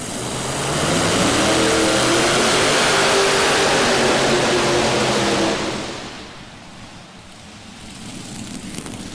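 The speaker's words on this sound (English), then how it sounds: "And I really think one of the engines quit right on the front of it. And he shuts it down" Multi-engine pulling tractor at a farm machinery show roaring loudly in a dense, steady rumble, then cutting off as it shuts down, leaving a quieter stretch of crowd and arena ambience.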